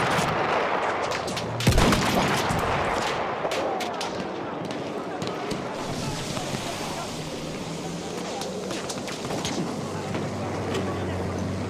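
Battlefield 1 conquest multiplayer battle with scattered gunshots and distant artillery over a steady roar of background combat noise, one sharp loud blast early on, the rest muffled and far.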